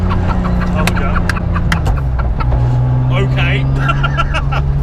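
A 2JZ-engined rear-wheel-drive Subaru Impreza wagon rumbles low and loud nearby, its note rising and shifting as it drives, with a brief spoken word and people talking over it.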